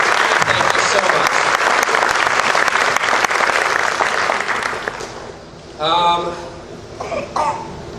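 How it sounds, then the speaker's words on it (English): An audience at a school band concert and awards ceremony applauds with dense clapping for about five seconds; the clapping then fades while a person begins talking over the remaining crowd noise. "let's give them a round of applause for helping get this certificate"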